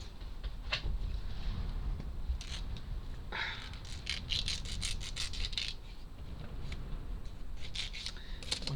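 Quick rasping strokes of sandpaper scrub against small, tiny wooden strips of a model house kit in short bursts, close and fairly quiet, with no talking.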